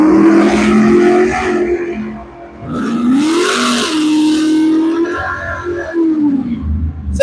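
Purple Ford F10 drag truck at a drag racing event, engine revving loudly with rising and falling pitch sweeps, then pulling hard on launch, close and continuous.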